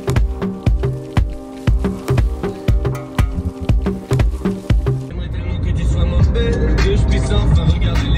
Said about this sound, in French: je vais conduire